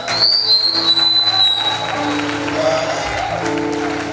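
Audience applause at a church concert, a dense continuous clatter of clapping mixed with whistles and a sustained musical tone underneath.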